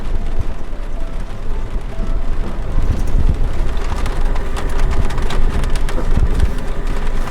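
Steady rain patters on rocks close by in Chloride Canyon, New Mexico backcountry, a dense continuous hiss with occasional sharper drops.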